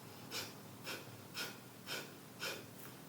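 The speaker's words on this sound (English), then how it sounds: "we can work with the breath of fire" Rapid rhythmic breath of fire yoga breathing, a series of five sharp forceful nasal exhalations at a steady pace about every half second, close and clear with no talking.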